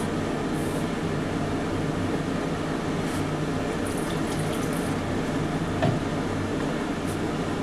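Water poured into a pressure cooker of chicken curry cooking in oil, a steady rushing, splashing pour at close range that runs unbroken throughout with no voices.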